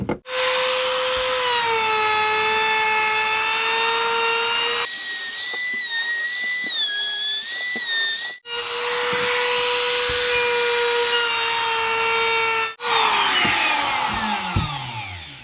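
A KATSU palm router runs continuously with a steady high whine as it edges a wooden chopping board, the pitch shifting under load and dropping briefly twice when the cut pauses; no talking.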